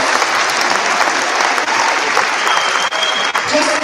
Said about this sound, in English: another big round of applause for our 12th and 23 year cadets